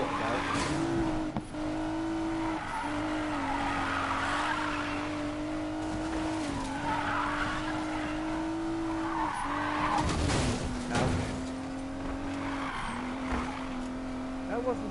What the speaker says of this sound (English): That wasn't so bad drifting, considering this isn't a drift car.